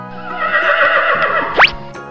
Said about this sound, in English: Let's put the horse in the green water.